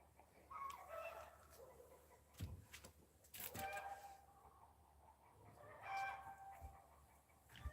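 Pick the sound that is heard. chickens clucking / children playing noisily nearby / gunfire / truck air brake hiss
chickens clucking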